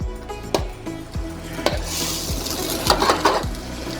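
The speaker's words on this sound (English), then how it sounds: "Add a little more oil and add your eggs. Break up your eggs" Eggs being broken up with a utensil in hot oil in a wok, sharp scraping clinks repeating roughly every half second over a steady background sizzle, close and fairly loud.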